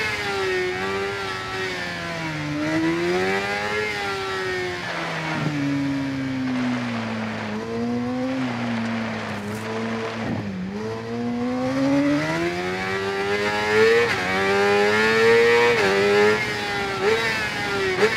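Motorcycle engines in the video game RIDE 4 rev and wail, pitch climbing and dipping through gear changes as the bikes race, loud and continuous without talk.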